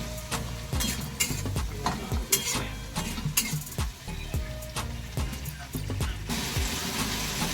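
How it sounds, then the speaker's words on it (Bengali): Food being stir-fried in a pan, with a steady sizzle under repeated scraping and clattering strokes of a spoon against the pan, close and moderately loud. "তো এবার এটাকে ভালো করে কষাই।"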